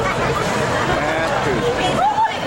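Crowd chatter at Mardi Gras on Fat Tuesday, a dense babble of many overlapping voices, steady and moderately loud, with nearby people talking within it.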